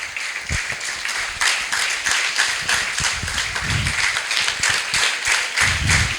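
An audience at a school function bursts into sustained applause honouring a guest, many hands clapping together in a dense, steady patter that holds for several seconds.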